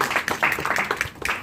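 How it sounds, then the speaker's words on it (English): An audience at a Shark Tank premiere event on Techstorm TV claps together in brisk, moderately loud applause that continues steadily through the short stretch. "Please a round of applause."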